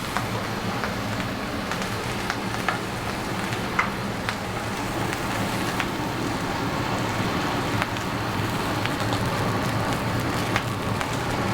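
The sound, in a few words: corn steaming on a griddle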